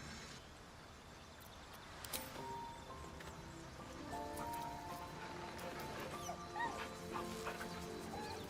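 Dog whimpering and yipping in the video game Baldur's Gate 3, soft and intermittent over a steady game ambience with faint tonal music.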